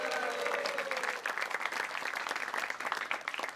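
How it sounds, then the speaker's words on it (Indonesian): A studio audience at a televised stand-up comedy show applauds a guitarist with a brief, lively burst of clapping that is fairly distant and soft and thins out toward the end. "Wah, tepuk tangan dong untuk mbaknya."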